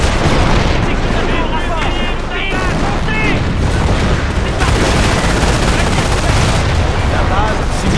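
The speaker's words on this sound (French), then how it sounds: "La base subit les tirs ennemis." Gunfire hits a base in the World War II strategy game Company of Heroes, with dense machine-gun bursts and booms running throughout and a voice speaking French over the battle.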